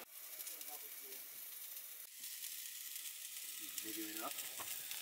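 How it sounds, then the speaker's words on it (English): Steady sizzling hiss of food frying in a pan, continuous and close, with faint voices murmuring underneath. "We're frying up some stuff."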